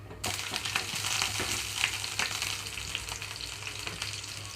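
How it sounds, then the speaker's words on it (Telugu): Chopped green chillies fry in oil over a medium flame for a tindora and onion chutney, giving a steady, dense sizzle with faint stirring clicks throughout, no voices. "ఇందులోకి కట్ చేసి పెట్టుకున్న పచ్చిమిరపకాయలను వేస్తున్నాను"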